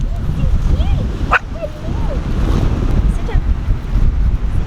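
Puppies yip and bark in short bursts over heavy wind noise, with a voice and outdoor rumble underneath, in the Tuamotus.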